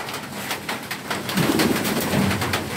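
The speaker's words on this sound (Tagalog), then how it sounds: "Tahimik dito. Huni ng ibon ang marinig." Doves cooing among other birdsong in a quiet outdoor spot, soft low coos surfacing midway over a steady, noisy background with scattered brief clicks.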